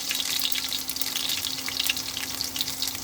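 Onions sizzling as they go into a hot pan for sautéed cabbage with dried carp, a steady broad hiss with faint clatter and a low hum underneath, no voices.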